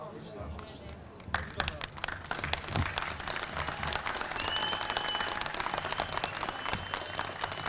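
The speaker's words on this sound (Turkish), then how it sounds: "Hadi alkışlayalım hadi." Crowd applauding at a May Day rally in Gündoğdu Square, İzmir, steady dense clapping building after a second and continuing throughout, with a voice over a loudspeaker and crowd noise beneath.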